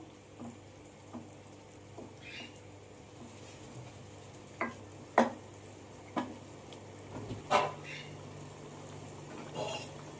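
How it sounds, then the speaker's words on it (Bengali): Fried prawns simmer in a spice masala, a low steady bubbling sizzle broken by scattered sharp pops and stirring scrapes, fairly faint and close with a few quiet voice sounds. "4-5 মিনিটের মতো এটা ভালো করে ফুটিয়ে নেব"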